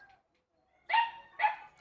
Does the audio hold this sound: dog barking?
yes